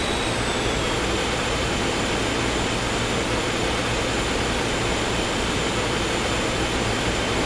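Jet engines spooled to full throttle in the X-Plane 11 flight simulator, a steady, loud, broadband roar with a thin high whine running through it. The sound holds constant throughout, with no voices.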